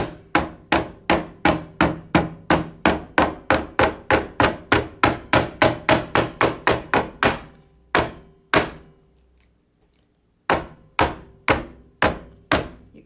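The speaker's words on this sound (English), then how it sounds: "we're just gonna go around and hammer it and mix it together" A hammer strikes paint on wood in a fast, steady series of sharp knocks, pauses briefly, then resumes with a few more evenly spaced blows.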